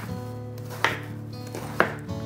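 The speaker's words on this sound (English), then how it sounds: "when I'm chopping my cabbage, go on and just break it up into two first" Two sharp knife strikes through cabbage on a cutting board, spaced about a second apart, close and crisp over a low steady kitchen hum.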